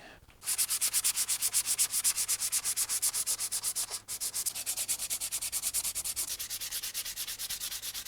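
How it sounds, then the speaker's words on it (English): Wood trim for a Jaguar car is sanded by hand with fast, rhythmic back-and-forth rasping strokes, close and steady, with one brief pause midway. "So now I need to do a bit of sanding."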